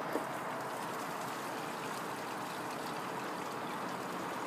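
Miele W842 washing machine draining water, a continuous rushing, trickling flow at steady volume throughout, close by.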